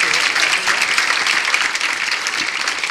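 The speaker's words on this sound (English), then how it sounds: "let me ask everybody to once again give a big round of applause." Thick, continuous applause fills a hall at the close of a panel discussion on the war in Ukraine, many hands clapping at once in a steady roar without pause.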